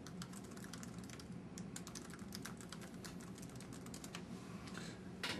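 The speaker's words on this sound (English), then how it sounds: "And Kareem is typing back what's going on" Someone types steadily on a computer keyboard, a dense close stream of key clicks running without pause and with no voices.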